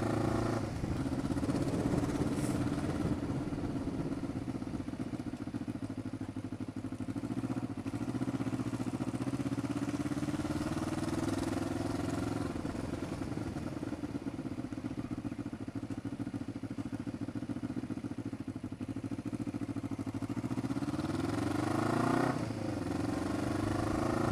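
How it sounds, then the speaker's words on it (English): A motorcycle with a loud exhaust drones steadily throughout, with rumbling exhaust and gentle rises and falls in revs, loud and close over road noise, riding through a small town. "peaceful little town with my loud exhaust"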